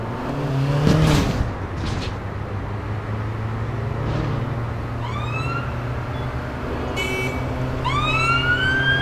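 A police siren wails in the APB Reloaded video game over a steady car engine drone, rising sweeps coming and going at mid distance, loud and continuous, with no talking.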